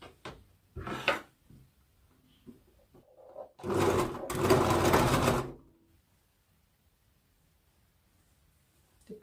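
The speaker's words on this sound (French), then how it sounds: "Maintenant, on va passer à la couture." A sewing machine stitches fabric for a made-to-measure dress for a ten-year-old child, running in two bursts, a short one and then a longer steady run of about two seconds, close and clear with no talking.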